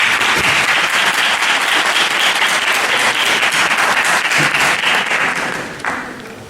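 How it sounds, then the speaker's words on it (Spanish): Loud, sustained applause from a conference audience fills the room with dense, steady clapping that tapers off slightly near the end. "Lo recibimos con un fuerte aplauso."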